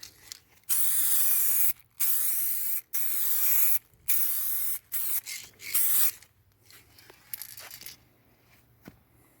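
A spray gun lays clearcoat onto car paint in a clearcoat repair, with loud close hissing bursts of about a second each, separated by short pauses, then fading to faint quiet handling noises.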